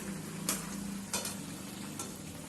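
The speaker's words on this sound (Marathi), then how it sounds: "आता दुसऱ्या साईडने वडे पलटी करून तळून घ्यायचे आहेत" Mumbai-style vadas for vada pav frying in oil after being flipped, a faint continuous sizzle with a few soft scraping clicks from a utensil.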